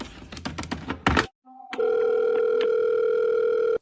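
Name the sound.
telephone dial tone after the call is cut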